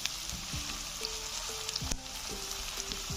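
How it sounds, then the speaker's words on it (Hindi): Sliced onions frying in a pan for tinda sabzi, a steady close sizzle with crackling pops and the occasional scrape of a spoon stirring. "प्याज को लाइट ब्राउन करना है"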